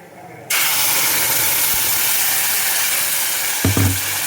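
A sudden loud hiss bursts in as a sizzling tempering of spices hits tomato chutney, then holds as a broad, even sizzle for several seconds, with a brief clatter near the end.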